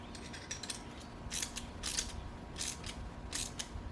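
A thin jam nut being tightened on a downrigger mount, with soft metallic ratcheting clicks and scraping turns repeating in short bursts, close and fairly quiet.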